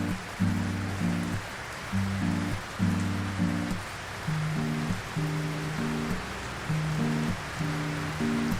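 Steady rain pours down in a continuous, fairly loud hiss, with low sustained musical tones playing underneath throughout.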